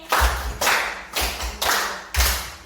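A classroom of students claps a rhythmic hand-clapping pattern together, five sharp, loud bursts of applause-like claps in quick succession with short gaps between them.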